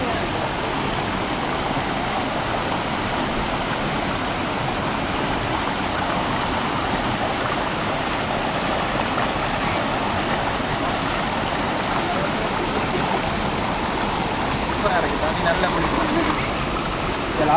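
Near Ratnapura, Sri Lanka, a waterfall and stream rush and splash in a steady, dense wash of flowing water, loud and continuous throughout with a slight swell near the end.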